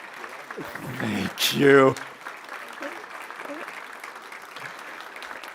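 Audience applause at a ribbon-cutting ceremony, a brief swell of clapping that peaks and fades within a couple of seconds, with a speaker's voice before and after it.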